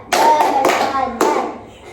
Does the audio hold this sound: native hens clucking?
no